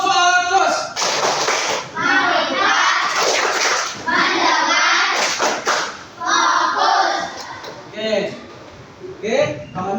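A class of children performs the tepuk fokus focus-clapping routine, rhythmic bursts of claps and thumps mixed with chanting voices, loud and close, with pauses between phrases.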